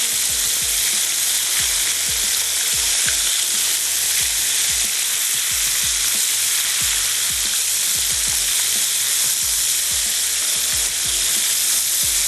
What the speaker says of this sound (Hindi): आप इस तरीके से अपने झींगों को फ्राई कर लें